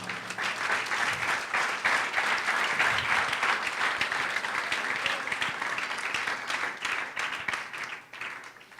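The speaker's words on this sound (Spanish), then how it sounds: "¿Cuántos pueden dar un fuerte aplauso al Señor?" A church congregation bursts into loud, sustained applause filling the room for about eight seconds, with a few cheers mixed in, before the clapping tapers off at the end.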